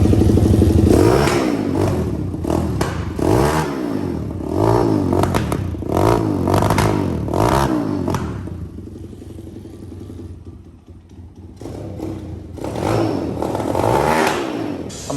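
A 190 engine on an ATC 190 mini trike with a Typhoon 125 frame and BW80 front end revs hard and close in repeated rising bursts. It settles briefly to a lower idle, then climbs again.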